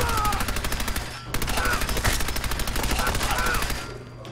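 Rapid automatic gunfire in Fallout 4, a fast, even rattle of shots that runs almost nonstop, broken by one brief gap, loud and close.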